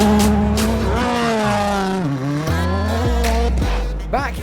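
A WRC rally car races flat out on a gravel stage at Rally Italy Sardinia, its engine screaming loud and close through rapid gear shifts and revs, with a brief squeal near the end.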